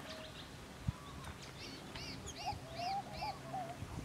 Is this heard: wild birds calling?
yes